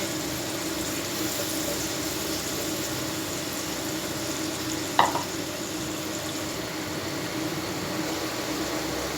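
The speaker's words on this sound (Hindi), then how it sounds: "अब ये ओपन पकेंगे।" Fresh green chickpeas cook uncovered in an open pan with a constant, even sizzle, broken once near the middle by a brief sharp clink of a utensil; no one speaks.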